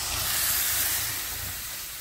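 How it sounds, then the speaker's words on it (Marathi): A tempering sizzles in a pan for besan pithla, making a steady, loud broadband hiss that fades slightly toward the end. "याला मस्त फोडणी बसली आहे ना."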